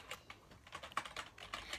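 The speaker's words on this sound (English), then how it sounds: "my favorite part about the keyboard is the lighting up, the size, and like the clickety clacks of it" Clicky gaming keyboard keys clatter in a quick, uneven typing burst, close and crisp, with no voices.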